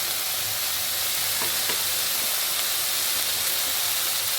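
Water poured into a pan of Bhola fish curry with turmeric, setting off a loud, even hiss of sizzling and steam that carries on close up, with a few faint clinks and no voices.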